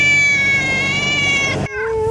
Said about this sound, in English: Cat in Ban Chiang.